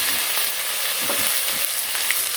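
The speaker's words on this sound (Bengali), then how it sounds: "তো সব কিছু দিয়ে ভালো করে কষিয়ে নিই।" Ground spice paste with onion, garlic and ginger frying in a pan for a snakehead fish curry, a loud, continuous bright sizzle with faint stirring scrapes beneath it.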